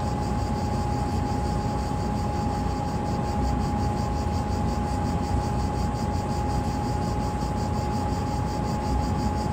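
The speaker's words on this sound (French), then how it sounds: "les cigales qui couvrent le son du diesel" Cicadas buzz loudly and without pause in a steady high chorus over the low rumble of a diesel AGC B 82500 regional train running along a Marseille–Martigues line in Train Simulator 2021.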